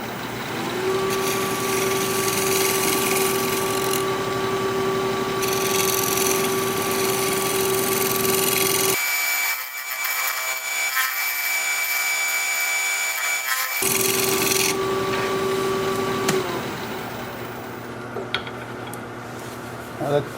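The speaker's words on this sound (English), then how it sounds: "I'll come back over here and smooth out my cuts." A steady scraping, rubbing drone of a negative rake scraper smoothing wood spinning on a lathe, with a constant machine hum; the scraping briefly drops out midway, then resumes.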